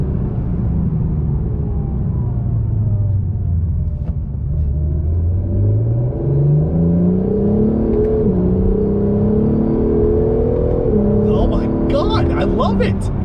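A new Acura NSX's V6 engine revs hard while driving, its tone climbing and falling in steady sweeps as the car accelerates, loud and close from inside the cabin.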